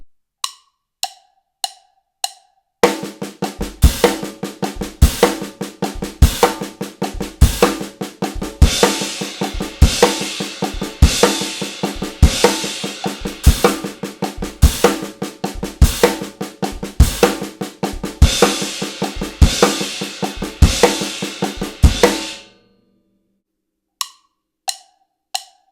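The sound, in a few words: drum kit six-stroke roll played as triplets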